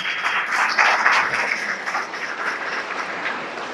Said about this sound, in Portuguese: vamos lá, Mari, puxa as palmas aí, em nome de Jesus